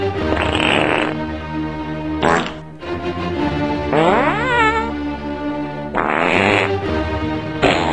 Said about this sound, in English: She did the long fart.